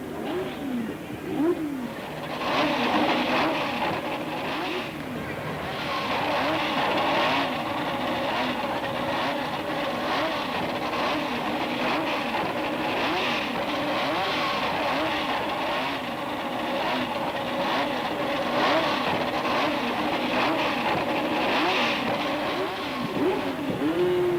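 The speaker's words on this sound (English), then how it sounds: "Back in the race, Clark is unable to maintain the pace set by Ruby and Stewart" Racing cars roar through a motor race in a continuous, dense engine drone that swells and fades slightly as the cars pass, with no speech.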